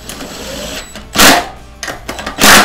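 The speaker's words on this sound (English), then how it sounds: "Put these two nuts back on. We're going to go back to our 10 millimeter socket." A 10 millimeter socket ratchets nuts snug onto a plastic air box during a Ducar 212 fuel pump installation. A faint whir gives way to a few loud, close bursts of clicking ratchet sound separated by short pauses.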